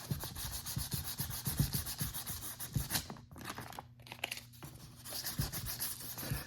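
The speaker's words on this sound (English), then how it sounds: "when it's dry, you can lightly sand on it" Light hand sanding over dried air dry fill, a quick run of close scratchy rubbing strokes that pauses briefly in the middle and then resumes, with no voices.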